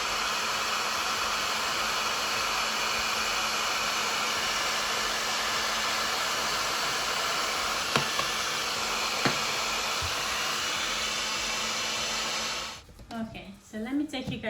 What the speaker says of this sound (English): I'm going to get my heat gun and just melt the top so that I can have an even surface